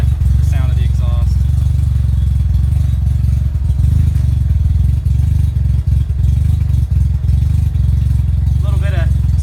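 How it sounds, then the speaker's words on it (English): Exhaust of a car idling on a chilly day with a cold engine that hasn't been started for a while, a steady deep close rumble with irregular puffing dips and brief squeaks at the start and end. "See if you can get a sound of the exhaust."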